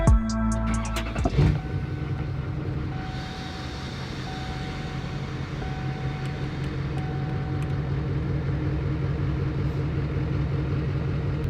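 A truck engine fires with a burst of cranking noise, then settles into a steady low idle that drones on evenly, with a faint tonal whine above it.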